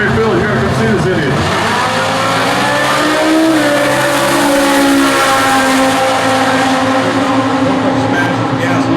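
A Factory Stock Showdown drag race car launching and accelerating hard, a loud, sustained engine roar rising in pitch with a brief tire squeal at the start, with people talking faintly beneath.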